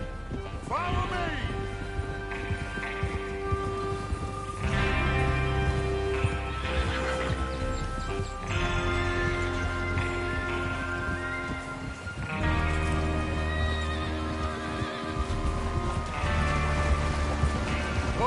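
Horses whinny and hooves clip-clop amid a Wild West gang riding out to rob a train in the Red Dead Redemption 2 video game, with layered music-like tones and steady, fairly loud ambience throughout.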